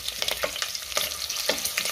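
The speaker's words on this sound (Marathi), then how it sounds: "तूप गरम झालं आहे, त्यामध्ये हे खडे मसाले आणि मिरची घालते. थोडंसं परतून घेऊया." Whole spices and green chilies frying in hot ghee, a dense close sizzle with soft stirring scrapes and taps throughout, no voices.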